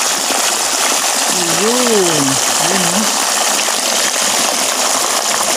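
Water gushes steadily out through a fairly large leak hole in a koi pond, a loud, continuous rushing noise close by, with someone briefly speaking over it.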